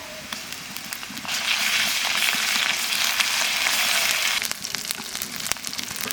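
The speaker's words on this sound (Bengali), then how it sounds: "পেঁয়াজটা একটু লাল লাল করে ভেজে নিয়েছি এবার আদা রসুন বাটা দিয়ে দেবো" Onions fried until reddish with ginger-garlic paste going into the pan for an egg curry give a steady broadband sizzle that swells louder in the middle of the clip, then settles back.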